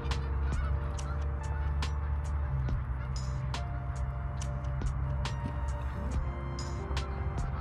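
Geese honking outdoors, a sustained chorus of repeated loud nasal honks from several birds close by, overlapping in an irregular rhythm over a steady low background rumble.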